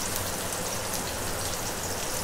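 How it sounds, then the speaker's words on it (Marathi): Heavy rain pours down outdoors, a steady, dense hiss that runs unbroken and fairly close, with no talking over it. "पाऊस तर खूप पडायला लागलाय आज बाहेर."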